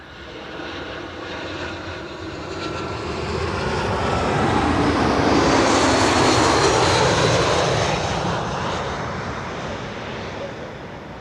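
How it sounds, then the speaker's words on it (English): British Airways airliner in One World livery arriving from London Heathrow at Schiphol's Kaagbaan 06 runway, its jet roar building from a distant rumble to a loud pass overhead and fading again, with no talk. "BA Flight 430 arriving from London Heathrow, flight time 44 minutes."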